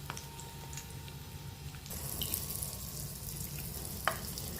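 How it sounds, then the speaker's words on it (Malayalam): Marinated fish pieces fry in a pan with a soft, steady sizzle, quiet and close, with a few light clinks and spatters. "ഇന്ന് 3 കഷ്ണങ്ങളെ വറുക്കുന്നുള്ളൂ."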